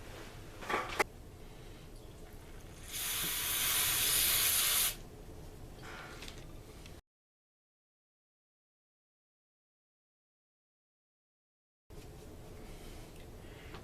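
Carburetor cleaner sprayed onto a South Bend 750 spinning reel during a repair, a steady loud hiss of about two seconds after a few short bursts, then silence before quieter handling noise returns.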